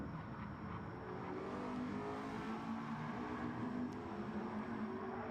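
Race cars in Gran Turismo 7 at the Nurburgring GP circuit, a steady faint engine drone of cars running down the start-finish straight toward a braking point, continuous with no clear peaks.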